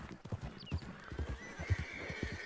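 A horse's hooves clip-clop in a steady rhythm in the Red Dead Redemption 2 video game, with a faint high whinny early on, heard fairly softly with no talk.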